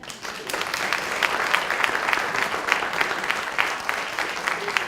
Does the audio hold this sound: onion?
no